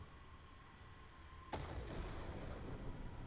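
A single loud weapon blast in Black Ops 2 Zombies, shooting the orb on the Origins map, hits midway through, followed by a rumbling, sustained tail over low game ambience.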